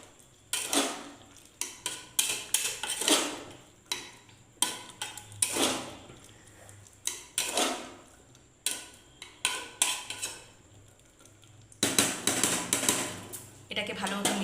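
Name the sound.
mixing paneer and chickpea curry in a pan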